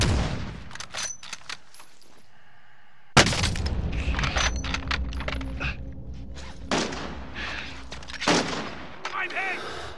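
Gunfire in the Call of Duty: Modern Warfare video game during team play, with bursts of shots and booms that break off into near silence for a moment, then resume densely alongside game voice callouts.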